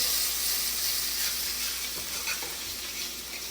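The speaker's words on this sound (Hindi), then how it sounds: "अब मैं डालता हूँ इसमें जो मसाला हमने रगड़ा था, जो कि बनाया था मैंने हरी मिर्च, अदरक और लहसुन से" Green chili, ginger and garlic masala paste frying in hot oil after red chilies, giving a close, steady, loud sizzle with faint stirring throughout.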